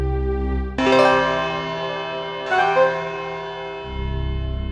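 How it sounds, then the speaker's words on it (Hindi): Two loud bell strikes ring out in a courtroom at five o'clock, each a bright metallic clang with a long ringing decay, the second following about two seconds after the first over a low background hum. "5 सेकंड में 5 बजे की घंटी बजने वाली हो"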